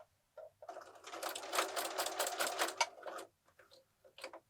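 A sewing machine stitches a quilted place mat in a quilt-as-you-go project, a fast rapid-fire run of needle strokes for about two seconds, then a few short separate stitches, close and clear.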